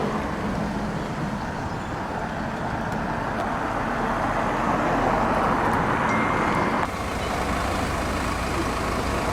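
Heavy haulage truck moving a 255-tonne wide load, a medical-grade oxygen cylinder, through suburban streets in Staffordshire, UK: a loud, continuous low diesel rumble and road roar, steady throughout with a slight shift partway, no voices.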